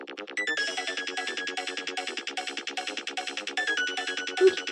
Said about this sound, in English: Yep, that was a ringtone.